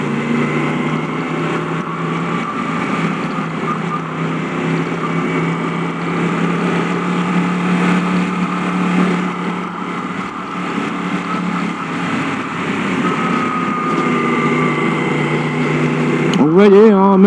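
A Yamaha MT-10 motorcycle engine hums steadily at low revs for a long stretch, close and continuous, with a brief rising rev near the end.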